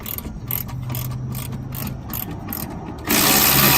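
Ratchet loosening the rear gas shock absorber bolt on the driver side of a Honda Civic, a run of close, rapid clicking strokes, followed at the end by a louder rushing noise.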